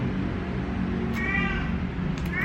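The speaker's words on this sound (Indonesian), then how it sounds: "Mengeong-ngeong dia." Domestic cat meowing close by, two short wavering meows over a constant low background hum with no speech.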